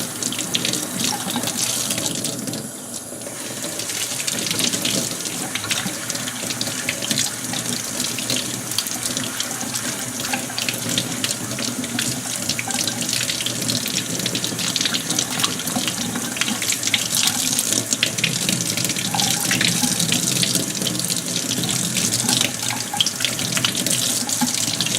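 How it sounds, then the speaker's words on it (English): Tap water runs steadily under a faucet into a sink while goldfish tank parts are rinsed in clear water without soap, a continuous close splashing hiss with shifting spatter as the items are moved through the stream, and no talking. "I just run this under just water."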